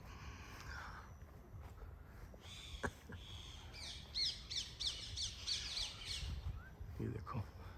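Birds call and chirp among the trees at a farmhouse, a mix of squawks and quick repeated tweets, fairly faint and distant with some low background rumble.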